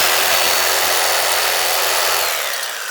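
A Sawzall reciprocating saw powered by a Titan solar generator runs loud and close in one steady harsh buzz that tapers slightly at the end.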